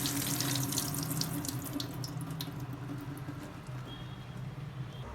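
Strawberries are washed under a running kitchen tap. The water pours in a steady, close rush that lasts throughout and fades slightly toward the end, with no talking.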